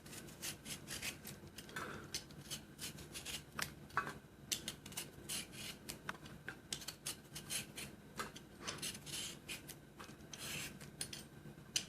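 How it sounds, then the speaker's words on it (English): A chayote, also called mirliton or chow chow, being peeled by hand with rough, rasping scrapes that repeat in an uneven rhythm, close and fairly quiet, with no talking. "Okay, we will peel this."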